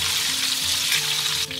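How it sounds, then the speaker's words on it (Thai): Pork intestines deep-fry with garlic in hot oil, giving a loud, steady crackling sizzle that fills the moment without any talk. "ไส้กระเทียมทอดกรอบนะคะ"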